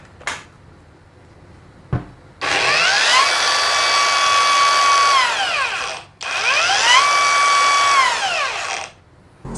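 A Mollar CAG20300 cordless 20V angle grinder with a 6Ah battery runs loudly in two bursts, each spinning up to a steady high-pitched whine and winding down, with a brief pause between them and no talking.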